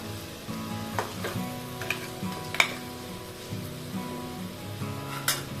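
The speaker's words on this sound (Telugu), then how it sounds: "ఇప్పుడు ఈ క్రాబ్ మంచిగా మసాలా పట్టే వరకు ఫ్రై చేసుకోవాలి" Crab pieces fry in a pan of masala for a crab curry, giving a steady soft sizzle with occasional sharper clicks of stirring.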